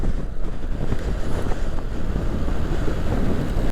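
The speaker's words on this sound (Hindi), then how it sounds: "तो हवा का प्रेशर भी बहुत ज़्यादा है, बाइक को मुसलसल जो है वो अपनी ज़द में लिए हुए है" Strong wind buffets a motorbike riding the Karakoram Highway, a constant loud roaring rush with gusty swells that fills the whole stretch, with no voices.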